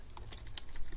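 Several quick keystrokes on a computer keyboard while typing a short command, light and close, with no talk.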